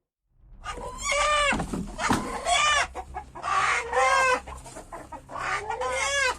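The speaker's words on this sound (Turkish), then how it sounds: "Kesilmek üzere kümesten alınan horoz bir anda anne diye bağırmaya başladı" A rooster taken from the coop for slaughter crows repeatedly in long, strained calls that sound almost like a human cry, loud and close, with short pauses between them.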